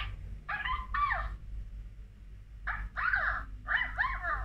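Electronic toy puppy giving out recorded dog noises when touched, several short yipping barks in two bursts separated by a pause, close and fairly faint over a low hum.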